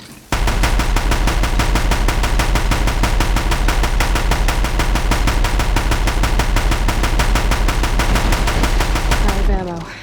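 In the Horizon Zero Dawn video game, loud automatic gunfire during a fight hammers out a steady, unbroken rhythm of rapid shots for about nine seconds, then cuts off abruptly into a brief quieter tail.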